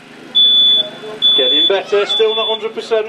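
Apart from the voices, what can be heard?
smoke alarm sounding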